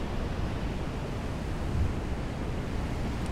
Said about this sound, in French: vous connecter à ce doux bruit des vagues et la puissance de l'océan là qui est derrière moi aussi